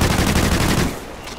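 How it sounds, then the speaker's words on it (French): Burst-fire rifle shots from the Call of Duty Ghosts video game, a dense loud rattle of rapid reports lasting under a second before dropping to a quieter tail. "C'est une arme rafale quoi."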